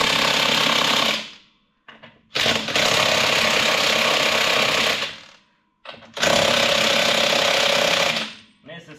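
A ratchet or wrench tightens the wheel bolts on a John Deere 5067E 4WD tractor, sounding as three loud, close bursts of rapid mechanical clicking separated by brief pauses.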